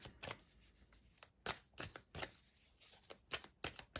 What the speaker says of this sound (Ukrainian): перемішаємо всі карти і ще раз запитаю